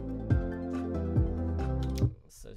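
A mastered music track processed with compression, a stereo spreader and a limiter plays dense and full, with bass-heavy hits pulsing roughly every second before it cuts off near the end.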